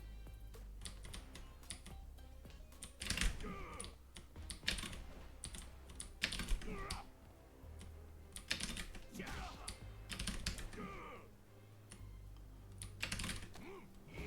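A game played on a computer keyboard produces irregular bursts of close keystrokes, clustered presses separated by short pauses, moderately loud over a low background hum.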